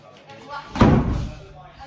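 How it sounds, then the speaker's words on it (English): A door slams shut once, close by, giving a single sharp, heavy thud that fades quickly. "let's just open the door."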